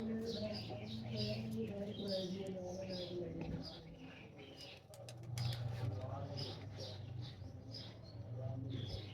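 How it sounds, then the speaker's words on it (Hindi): A dub-type fancy pigeon cooing softly in repeated low throaty phrases, faint and close, with occasional wing movement and someone talking over it. "ये कबूतर बहुत बेहतरीन है बेटे, ये डब वालों में से है"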